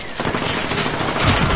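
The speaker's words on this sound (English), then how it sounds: "Oh, that is a firework, dude." Fireworks bursting in Call of Duty, heard as a dense, continuous crackle of rapid pops for the whole stretch, with heavier bursts near the end and no talk over it.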